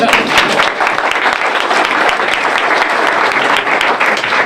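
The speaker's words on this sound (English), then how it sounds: "So we should give them a real round of applause" Audience applause at the Liberty Sports Park groundbreaking ceremony, a dense, steady round of clapping from a crowd that holds at full strength for the whole stretch with no talk over it.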